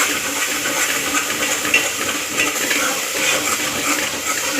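Ginger garlic paste being stirred in hot oil gives a steady, close frying hiss that runs without a break.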